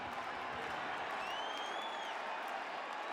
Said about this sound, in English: the crowd very much back into this one